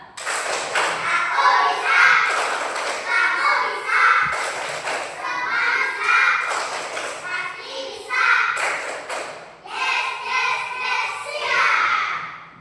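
Schoolchildren in a classroom perform a rhythmic clapping game, their chanting voices riding over steady, evenly spaced claps and thuds that continue close by for the whole stretch.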